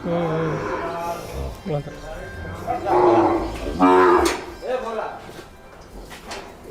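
A Gir cow moos several times nearby, low drawn-out calls with short gaps, mixed with a person talking.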